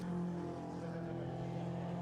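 Lee Brooks's race car passes on the Anglesey circuit during a BRSCC race, a brief, steady engine drone at moderate distance, fairly quiet and alone.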